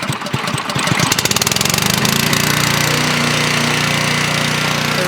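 Gas engine on a skid-mounted pressure washer, pulled with a rope, sputtering in rapid knocks before settling into a loud, steady drone close by.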